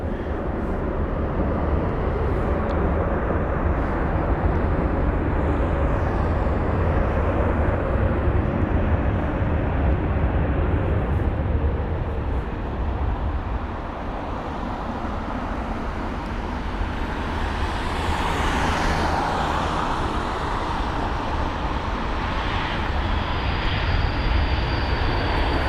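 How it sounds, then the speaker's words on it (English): A Singapore Airlines Airbus A380 at London Heathrow makes a steady, loud, broad jet roar that holds for the whole stretch and dips slightly midway before swelling again. "Right, from Singapore is this Singapore Airlines A380."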